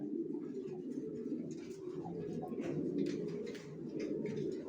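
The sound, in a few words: pigeons cooing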